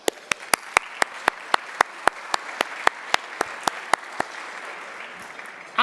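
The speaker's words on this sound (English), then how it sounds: "you deserve a big applause" Sharp, evenly spaced claps ring out close by at an award dinner, repeating in a steady rhythm for about four seconds over a softer wash of clapping from the room.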